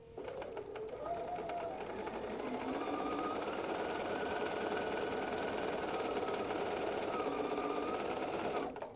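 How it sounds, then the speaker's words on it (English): Sewing machine stitching a scant quarter-inch seam on kaleidoscope quilt triangles, a steady close mechanical whir held for several seconds before stopping abruptly, with no talk. "we sewed a scant 1/4 on our kaleidoscope triangles"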